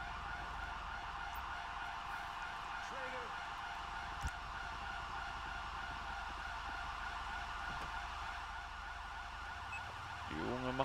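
An emergency vehicle siren wails steadily at an accident scene, its rising and falling tone running the whole time over a low traffic rumble, with a faint voice in the background.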